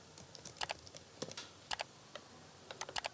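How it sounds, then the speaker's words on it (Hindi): Quick bursts of keystrokes on a computer keyboard, close and fairly quiet, tapping in an uneven rhythm with short pauses between clusters while someone enters a city name into a form. "करंट सिटी में मैं टाइप कर देती हूँ"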